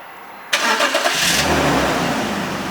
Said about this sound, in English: Marco, start the car?